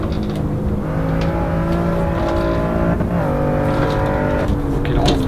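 A BMW M2 in the video game Assetto Corsa EVO accelerates at full throttle, its loud, steady engine note climbing through gears with brief dips at the shifts, alone and close.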